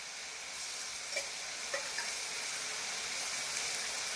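Garlic paste frying in leftover fish oil in a pan, a steady bright sizzle throughout with a few soft clicks and small pops, close and without talk.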